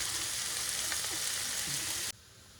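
Sauce vegetables fry in hot rapeseed oil with a loud, dense, steady sizzle close by, broken by faint stirring touches and cut off abruptly near the end.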